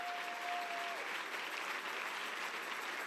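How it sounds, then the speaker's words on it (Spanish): A church congregation claps loudly and steadily, a dense wash of applause that fills the room without a pause. "dele fuerte ese aplauso al Señor por su amigo"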